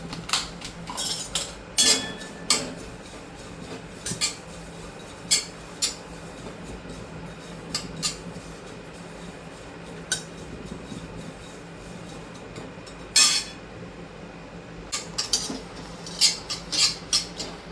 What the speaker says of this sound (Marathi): आणि मग खसखस भाजायची कोरडी